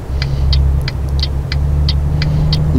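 A truck in Euro Truck Simulator 2 crawls uphill at about 19 km/h, its engine a loud, steady low drone with a light, regular ticking over it, with no voices.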